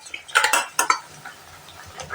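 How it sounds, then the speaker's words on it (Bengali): Pabda fish pieces are slipped one by one into a boiling curry, producing a few close, soft splashes and metallic pot clatters, then a quiet bubbling simmer. "এবার আমি মাছগুলোকে এক এক করে ছেড়ে দেব।"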